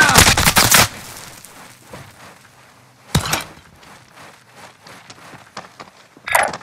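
Gunfire in the Call of Duty: Modern Warfare video game, a loud close burst of automatic fire followed by scattered single shots and clatter, ending with another sharp blast.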